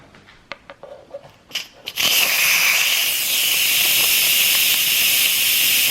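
Instant Pot pressure cooker being quick-released after cooking pinto beans: a few soft clicks and taps, then a loud, steady rush of steam hissing that starts abruptly and continues without a break.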